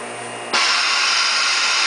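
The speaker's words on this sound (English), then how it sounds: "Bottom platen comes up, and the fan comes on." Cooling fan on a ZMD 523 vacuum thermoformer kicks on as the bottom platen rises, a sudden switch to a steady, broad airy whoosh that holds evenly over the machine's background hum.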